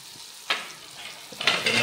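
Spices with turmeric and salt stirred in hot oil, a quiet sizzle broken by a couple of scraping stir strokes that swell louder near the end, close by with no talk.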